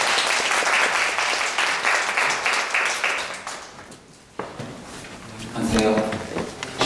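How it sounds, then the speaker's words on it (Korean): A lecture audience applauds to welcome the lecturer at a humanities talk on Adorno and Beckett, steady clapping for about four seconds that fades out, followed by a clunk and then speech. "그럼 큰 박수로 선생님 모셔볼게요."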